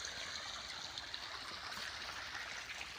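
Water pumped by a motor trickles and streams into rice fields on a misty early morning, a soft, steady, faint flow with light gurgling and nothing else over it.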